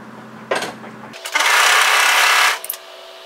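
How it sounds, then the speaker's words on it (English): An overlocker serges the short end of a folded fabric tie, a loud steady mechanical whirr lasting just over a second, with brief clicks and handling noise before and after. "fold that right sides together lengthways and overlock, serge that short end"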